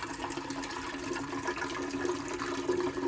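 Water pours steadily out of a Keurig K Supreme brewer's reservoir into a sink, a continuous splashing stream at close range with no one talking.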